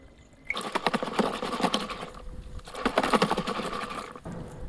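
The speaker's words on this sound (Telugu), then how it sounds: "ఇప్పుడైతే వాటర్ పోసుకొని చిలికేద్దాం." Buttermilk with water and salt churned by hand in a clay pot, with two rapid bursts of sloshing, rattling whirls separated by a brief pause, close and fairly loud.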